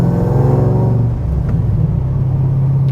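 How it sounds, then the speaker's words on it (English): A supercharged 2010 Chevrolet Camaro SS V8 idles smoothly, a deep steady low rumble with a slight settling of pitch early on, close and loud with no voices. "Idle's nice and smooth, shift's nice and smooth."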